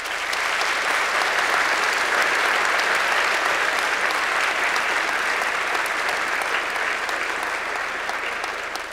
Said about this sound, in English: you all deserve a round of applause from the students